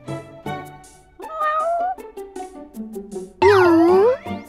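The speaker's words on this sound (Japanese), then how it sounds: "猫だよ。" Cat meowing in the game Assault Lily Last Bullet, several close, clear meows in a row, the last one long, loud and rising in pitch.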